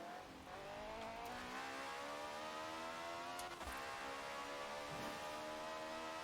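A Toyota 2JZ engine revs hard in Forza Horizon 4, a steady, loud buzzing drone with rising and falling pitch that holds throughout, with brief sharp spikes from shifts or tire noise.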